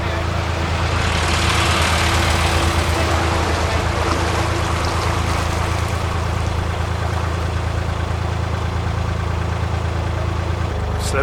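Steady narrowboat engine chugging on a canal, a loud continuous low throb with a rhythmic idle pulse and a faint water wash, close by and without talk throughout.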